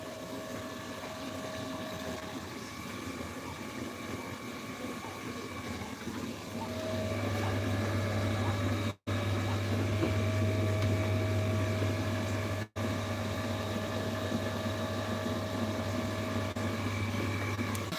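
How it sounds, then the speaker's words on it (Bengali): Electric motor pump lifting water on a chicken farm, a steady low hum and whirr with a deep tone that strengthens partway through, running continuously at moderate distance with two brief dropouts. "এখন আচ্ছা, মোটর সাহায্য জল উঠছে"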